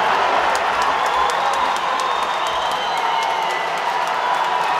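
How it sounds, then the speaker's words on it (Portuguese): Supporters at a Liga Gaúcha football match cheer and applaud a goal, a loud, dense, continuous roar of crowd noise with clapping and whistles that carries at full strength for the whole stretch before cutting off. "A torcida ainda estava comemorando o gol do camisa 11"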